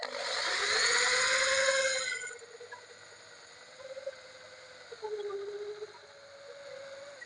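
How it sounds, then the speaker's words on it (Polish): A drill with a sharp bit whines loudly for about two seconds as it bites into the metal of a Mercedes Sprinter van door, then stops, followed by faint brief squeaks and quiet handling. "biorę się za wiercenie"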